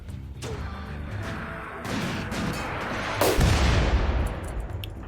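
Mortar fire in RimWorld, impacts arriving one after another with a large, loud crash near the middle, over a steady background of game music and effects.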